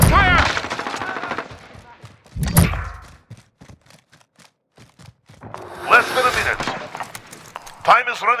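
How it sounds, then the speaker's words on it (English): Bursts of machine gun fire in Call of Duty: Modern Warfare, rapid and close, separated by a quiet stretch, with game voices and radio chatter talking over the shooting. "I'm under fire."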